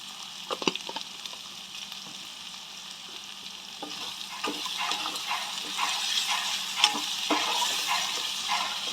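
Onions and green chillies softening in hot oil with turmeric added, a steady close sizzle broken by scrapes and clinks of stirring, with no voices.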